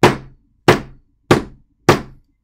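A hammer strikes a magnetised piece of metal four times at a steady, unhurried pace. Each blow is loud, sharp and close, with a short decaying ring and no voices.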